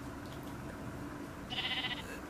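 Sheep in Minecraft gives a short bleat, a bright, wavering call lasting about half a second that rises over steady game background noise.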